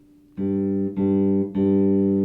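Three sustained low bass notes are plucked one after another with one finger, string plucked beside the fingertip, each ringing steadily until the next, clean and close with no talking.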